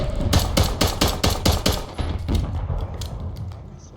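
Starter pistol gunfire in the video game Warzone, a rapid run of sharp close shots in a tight rhythm that breaks into a few more spaced shots and then trails off into game ambience.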